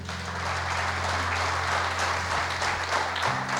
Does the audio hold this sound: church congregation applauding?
yes